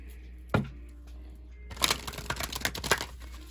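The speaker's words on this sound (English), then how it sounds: "I'm going to reshuffle" Tarot cards are reshuffled by hand, a single snap followed by a rapid flurry of riffling, papery clicks and slaps, close and moderately loud, with no talking.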